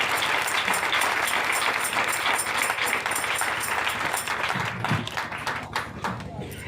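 A church revival congregation applauds loudly and continuously after a miracle testimony, with dense clapping and crowd voices mixed throughout and the clapping thinning slightly toward the end.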